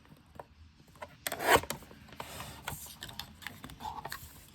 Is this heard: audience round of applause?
no